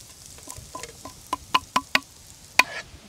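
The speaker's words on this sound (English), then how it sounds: "Saute till it brown." Garlic sautéing in a pan for whelk cream pasta, a spoon tapping and scraping the pan in a quick run of sharp clicks over a faint sizzle.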